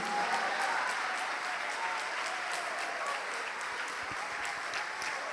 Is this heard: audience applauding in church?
yes